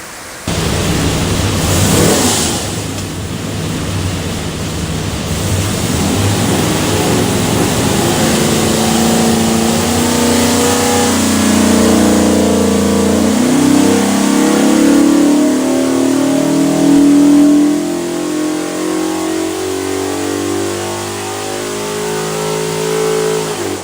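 A drop-in 427ci Ford V8 bound for a 1969 Mustang runs up on an engine dyno, building from a steady loud idle into a long sweeping rev pull whose rising note climbs and holds near full load before easing off.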